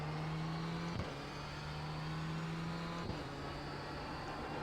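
A racing car engine in iRacing, a Ford GT2 or Renault Clio, droning steadily with two quick dips around shifts through short gears, a continuous synthetic whine with no talk.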